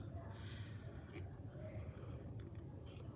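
Scissors snipping paper shapes at close range, a few short crisp cuts spaced through the clip over a steady low background hum, with no clear talking.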